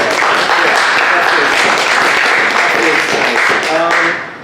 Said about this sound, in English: Maybe an applause for that.